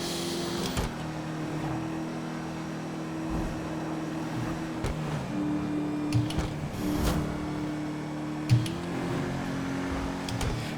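An Albany V-STR car in Grand Theft Auto V speeds downhill, a continuous engine drone with shifting pitch as gears change, punctuated by a few brief clicks and bumps; no talking.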